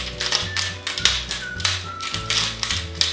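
Pink salt crushed in a hand salt grinder for a chicken recipe, a quick run of close, dry ratcheting clicks and crunches that repeat in short bursts for about three seconds, with no one talking.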